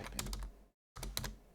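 Quick typing on a computer keyboard, a short burst of close key clicks, a brief pause, then another burst of clicks.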